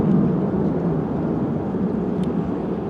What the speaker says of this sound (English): Drop tanks attached, doing a non-afterburner departure